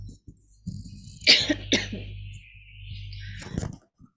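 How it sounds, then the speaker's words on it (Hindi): Several sharp coughs in a short burst, close to the mic, with a low steady hum behind them. "मुझे बहुत खांसी आ रही है।"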